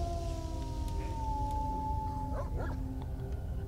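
A dog howls in the S.T.A.L.K.E.R.: Shadow of Chernobyl video game, long wavering tonal cries rising and bending over a constant low rumble of game ambience, with no one talking.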